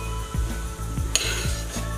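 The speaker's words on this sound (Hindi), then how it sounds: "अब हम अपने घी के अंदर 1 चम्मच जीरा डाल देंगे" A spoonful of cumin seeds sizzling in hot ghee as a steady close hiss, with a few soft spoon taps against the pan and no talking.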